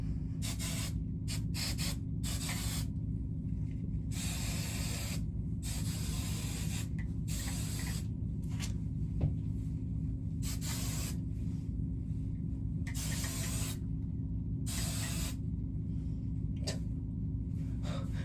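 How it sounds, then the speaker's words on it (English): Repeated bursts of aerosol hairspray hiss in quick irregular puffs over a steady low hum, some sprays short, others held longer. "Like dousing this junk in hairspray."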